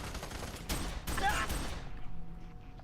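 Gunfire rings out in the first-person shooter F.E.A.R. 3: a couple of rapid bursts of close shots, ending in a sharp metallic ring that then fades into a quiet echo.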